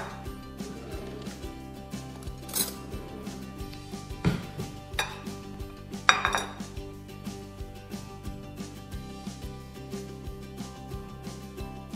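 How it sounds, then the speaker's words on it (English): A spatula or knife cutting a piece of Mexican cornbread out of a baking pan, giving light scrapes and repeated metallic clinks and taps against the pan, with a few louder knocks. "Cut a piece out."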